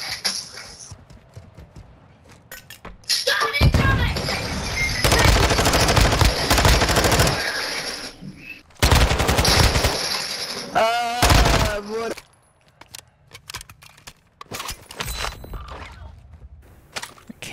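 Long bursts of automatic gunfire in the DMZ video game come in loud, dense volleys separated by quieter gaps with footsteps and faint background sound.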